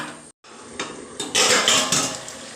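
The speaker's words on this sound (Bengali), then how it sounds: "এবার ভালো করে নাড়িয়ে দিয়ে চাপা দিয়ে দেবো চাপা দিয়ে দিলাম" Metal utensil scraping and clanking against a pot while cauliflower roast is stirred, then a lid set on with louder bumps; irregular clatter at close range, no talking.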